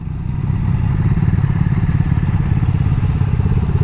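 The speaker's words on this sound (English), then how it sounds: "I'm literally downshifting and upshifting without hitting the lever, and obviously that's what a quick shifter is and what it does" A Triumph Daytona 660 motorcycle with a quickshifter runs close and loud, its engine giving a steady, rapid pulsing drone with a faint clatter through the whole stretch.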